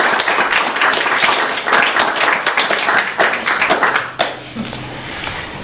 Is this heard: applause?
yes